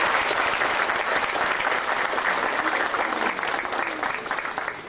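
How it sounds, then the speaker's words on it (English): Banquet guests break into a burst of sustained applause, dense and fairly loud clapping that tapers off slightly at the end. "Let's give them all a round of applause."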